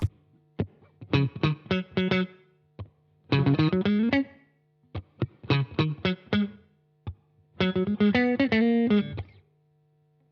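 Electric guitar plays short, clipped staccato licks in four bursts separated by brief rests, with a steady low hum underneath.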